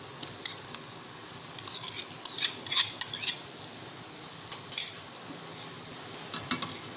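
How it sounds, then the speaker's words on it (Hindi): Minced meat dropped into sizzling masala in a pan, the bright hiss of frying running throughout under repeated clinks and scrapes of a metal spoon against the pot. No voices. "अब मैं इसमें ये कीमा डाल दूँगी।"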